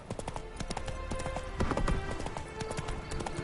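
Horse hooves clip-clop in a quick, steady rhythm in The Witcher 3 video game, close and fairly loud, with a brief swell of louder hoof strikes near the middle and no clear whinny.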